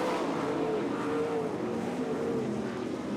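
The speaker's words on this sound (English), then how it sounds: "Slick move by Erickson to get around Berth for 2nd down in turn 4" Race cars on a dirt oval, including vintage modifieds, roar continuously in a steady, dense engine wash, loud and sustained throughout with no clear gaps.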